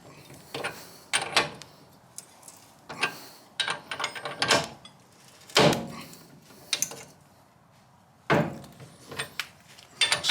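On a BMW E46, a rear wheel bearing is pressed out with a puller. Sharp, irregular metallic cracks and creaks come at close range, a dozen or so bursts spread unevenly over quiet gaps, with no talking.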